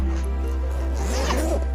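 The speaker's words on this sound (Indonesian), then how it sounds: "di depan sini ada kompartemen lagi dengan penutup resleting" Someone opens the zipper on the front compartment of an Arei Papandayan 60-liter carrier backpack, a close, scratchy slide lasting under two seconds over a low steady hum.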